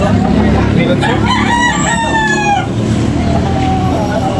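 Roosters for sale at a cockfighting venue in Tabunok, Talisay, Cebu, crowing repeatedly in a loud, busy setting with a constant crowd din underneath.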